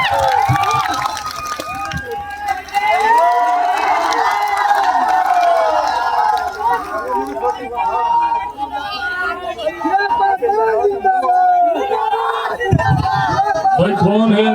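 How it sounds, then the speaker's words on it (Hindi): A large crowd at a political rally in Belsand roars and cheers loudly and continuously, with amplified voices calling out over the din. "जोरदार ताली बजाकर आप लोग अपना आशीर्वाद दें।"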